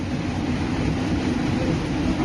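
A metro train sets off from Howrah Maidan station in Kolkata. Its steady, even rumble of motor and wheels fills the space from inside the car, with no talk.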